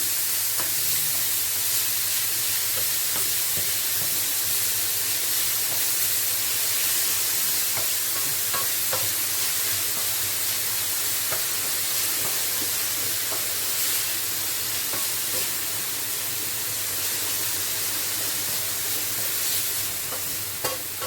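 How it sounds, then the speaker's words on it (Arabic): Onion frying in a hot pan with a steady, loud sizzle and hiss, stirred now and then, making faint scraping ticks, continuing evenly for about twenty seconds with no voices. "وهنا ندخل البصل مع لا فيون داشي"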